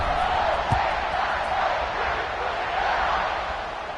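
A home crowd at a college football game, Buckeyes against Wolverines, keeps up a dense, steady roar of cheering throughout, with no clear individual voices standing out.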